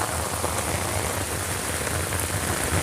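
Steady rain pours down in Chilahati before evening prayer, flooding the road by the government hospital, a dense, continuous hiss of drops hitting surfaces with a low rumble underneath and no voices.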